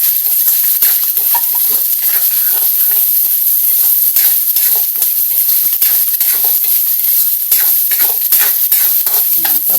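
Pork fries hard in a pan with garlic and onion, a loud, dense sizzle running throughout, dotted with constant crackles and stirring scrapes close to the ear.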